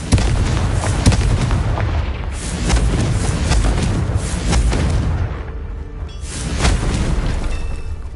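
Confringo blasting spells cast repeatedly in the video game Hogwarts Legacy, giving a run of heavy booming explosions that roll into one another, loud and dense throughout.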